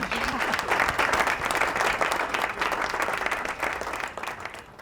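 A studio audience on a Ramadan quiz show bursts into dense, lively applause after a correct answer, a loud close wash of many hands clapping that fades slightly at the end.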